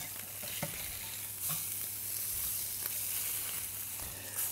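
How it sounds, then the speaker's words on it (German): Meat browning all over in a hot pan during a Christmas-menu cooking show, a steady close sizzle and crackle with occasional stirring scrapes, no talking. "Also rundherum einmal kurz anbraten"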